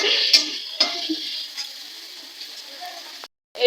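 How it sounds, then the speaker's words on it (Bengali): A spoon stirring chopped tomatoes into onions in a pan for mutton curry, soft scraping with a light sizzle and a few clicks, close and fairly quiet, ending in a brief silence. "তারপর দেবো টমেটো কুচি নাড়াচাড়া করে নি"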